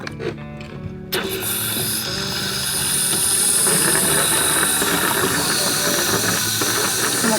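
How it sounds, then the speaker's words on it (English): A fast fuel pump filling a boat with about 30 gallons gives a loud steady rushing hiss that starts abruptly after a quiet moment, swelling slightly and then holding constant, close by. "This is a very fast pump"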